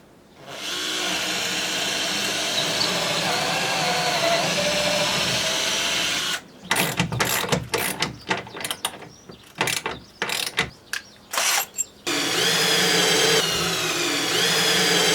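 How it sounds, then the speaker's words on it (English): A new cordless drill whirs steadily at close range while building a 2x4 picnic table, then runs in short stop-start bursts before settling into another sustained whine. "Got my new drill. Cordless."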